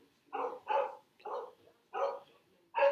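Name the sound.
dog barking in the background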